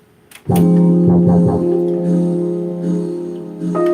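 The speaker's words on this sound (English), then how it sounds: "As y'all see, I picked that ooh sound, right?" A sampled "ooh" vocal plays from an Akai MPC One, a loud sustained harmonic tone that starts abruptly, is retriggered a few times and then holds, with nothing else heard.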